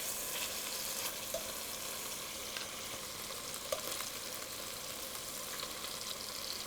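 Chicken thigh pieces brown over high heat in a big pot, giving a steady, even frying sizzle with faint crackles throughout, moderately quiet and close, no voices.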